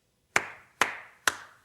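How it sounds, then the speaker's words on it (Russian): Three crisp hand claps, evenly spaced about half a second apart, each sharp and close with a brief ringing decay, in an otherwise quiet scene from a 1988 Russian film. "Маруся хлопает в ладоши, появляются 2 дюжих молодца."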